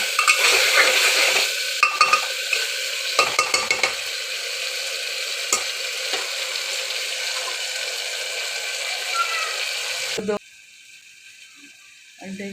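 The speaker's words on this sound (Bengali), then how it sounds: "আলুটা একটু ভেজে নিই" Potatoes for a simple aloo torkari fry in a pan with a bright steady sizzle and clattering stirring strokes, then the frying drops away abruptly near the end.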